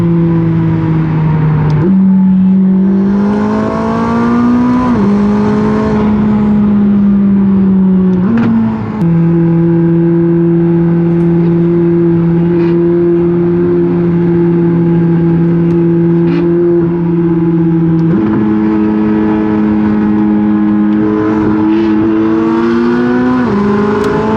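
A McLaren with a 6-speed manual gearbox drives along, its engine a steady, loud drone heard from inside the car, with pitch shifting at several gear changes.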